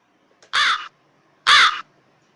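Two loud, harsh crow caws about a second apart, close by and overhead from a dense tree, with near silence between them.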